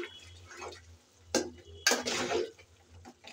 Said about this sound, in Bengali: চার পাঁচ মিনিট পর আমি একবার নাড়িয়ে দিচ্ছি এসে ঢাকনা উঠিয়ে